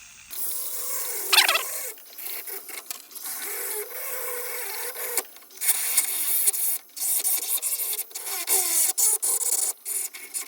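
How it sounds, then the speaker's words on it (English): A small rotary tool grinds gold off a ring with a continuous, thin, high-pitched rasp, close and fairly loud, broken by brief pauses and shifts in pitch as the pressure changes. "if you wonder what happens to the gold that I'm grinding off"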